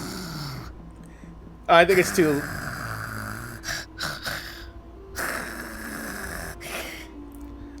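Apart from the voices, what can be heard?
creatures snoring in the video game Genshin Impact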